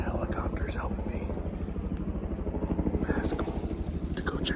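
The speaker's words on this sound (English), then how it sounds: "The helicopter's helping me" A helicopter flying overhead during a Massachusetts bowhunting blood-trail search, its steady rhythmic rotor thump close and loud, with a hushed voice speaking under it.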